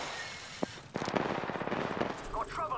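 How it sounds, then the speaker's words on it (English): Rapid automatic gunfire in a squad-based shooter video game, one sharp shot followed by a long loud burst of close, steady rattling fire. "They're shooting at me."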